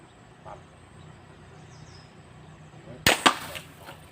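A fishing crossbow with an aluminium rail fires once at a target about seven metres away, a sharp, sudden snap and thwack near the end after quiet outdoor ambience, followed by a couple of rattling knocks.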